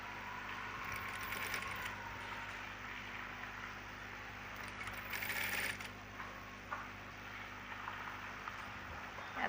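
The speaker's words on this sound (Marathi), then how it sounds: "तर ही आपल्याला असं घेऊन पूर्ण शिलाई मारत न्यायची आहे." A sewing machine stitching fabric: a faint, steady mechanical whirring and ticking runs throughout at low level, with a couple of slightly louder bursts.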